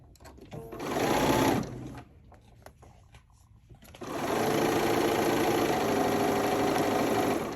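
A sewing machine stitching a quilt, whirring in a short burst, pausing briefly with a few small clicks, then running again in a long, steady, close whir, with no talking.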